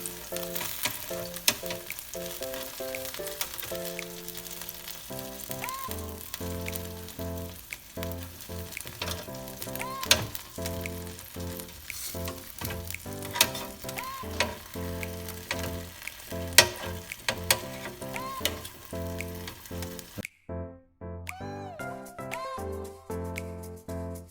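Chicken wings for honey habanero wings sizzle in hot frying oil while being turned, a constant crackling hiss under steady background music that drops out near the end.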